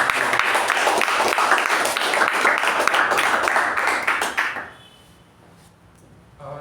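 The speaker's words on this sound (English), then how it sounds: "A round of applause to both the speakers." Brisk round of clapping from a meeting audience for two speakers, dense and steady for about four and a half seconds before stopping abruptly, leaving quiet room tone.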